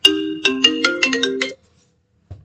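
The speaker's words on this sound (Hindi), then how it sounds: "phone is ringing" A phone ringtone plays a bright, clear electronic melody of about eight quick notes over one and a half seconds, close and loud, then stops, followed by a soft low thump.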